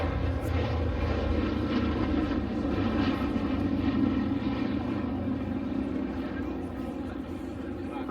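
Sally B, a privately preserved B-17 bomber, flying at the Cosford Air Show, its piston engines giving a loud, steady, deep droning roar that fades slightly toward the end.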